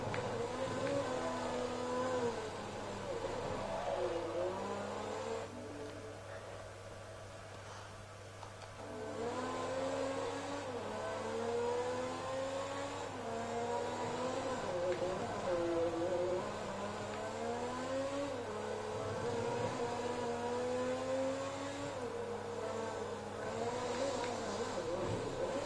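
A fast car's engine drones and revs continuously in the Forza 3 racing game, its pitch rising and falling through gear changes over a steady background tone.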